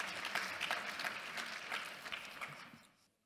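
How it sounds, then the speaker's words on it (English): An audience at a regulatory conference gives a round of applause, dense steady clapping from many hands that fades out over the final moments. "Let's give him a round of applause, ladies and gentlemen."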